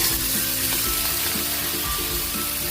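Chicken pieces hit hot oil in a pot for Filipino sinigang sa miso, setting off a loud, steady sizzle and frying hiss that runs unbroken, close up, with no voices.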